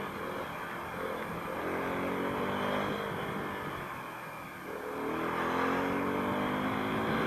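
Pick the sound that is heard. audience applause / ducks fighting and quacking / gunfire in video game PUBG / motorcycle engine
motorcycle engine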